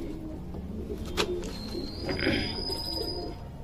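Pigeons coo softly nearby in a few low, throaty bursts, with a faint high chirp running through the quiet background.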